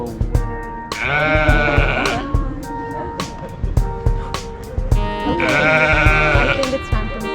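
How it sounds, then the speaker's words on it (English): Sheep bleating near a fence, two loud drawn-out bleats with quieter background noise and clicks between them. "But it is a sheep."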